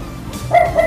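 A dog barking outside a home: one short, moderately loud bark or yip from a short distance away.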